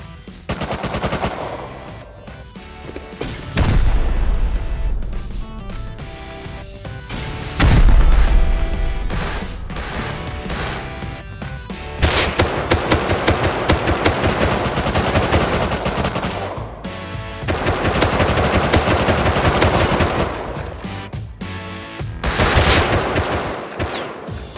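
An automated turret in Rust fires long, loud bursts of machine-gun fire, with heavy booming impacts between stretches of sustained rattling over roughly twenty-five seconds.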